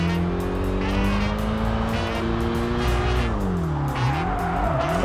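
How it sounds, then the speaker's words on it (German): Racing car drifting in the Tokyo Xtreme Racer Drift 2 video game, a loud sustained engine drone with shifting pitch and a long tire squeal sliding alongside it, steady and close throughout. "Erstmal schön Drift noch hingelegt."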